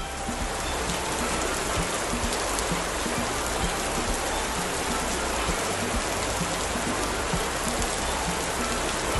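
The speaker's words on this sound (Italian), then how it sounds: "Anche con l'innaffiatoio possiamo versare l'acqua." Water pours steadily from a small watering can into a toy pool, a continuous even splashing and trickling with no talking.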